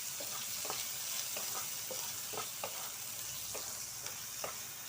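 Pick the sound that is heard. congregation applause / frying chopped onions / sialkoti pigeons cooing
frying chopped onions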